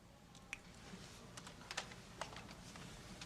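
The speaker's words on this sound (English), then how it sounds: "Just use the keyboard." Typing on a computer keyboard in a Star Trek scene, heard as scattered, irregular key clicks, fairly faint and close, with no one talking.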